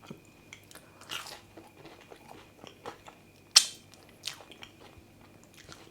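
Someone bites into crispy, fluffy masala chips with sauces, giving close-up crunches and soft chewing, with one sharp loud crunch partway through and quieter mouth sounds around it.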